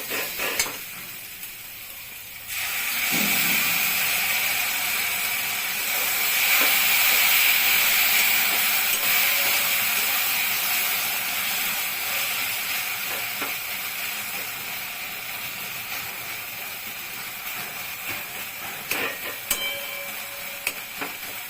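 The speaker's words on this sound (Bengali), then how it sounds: "এখন আমি টোস্ট করতে বাটাটা দেবো" Ground spice paste is added to hot oil with kochu shak and prawns, bursting into a loud, continuous hiss and sizzle after a quieter start, then settling into steady frying with occasional crackles and clinks.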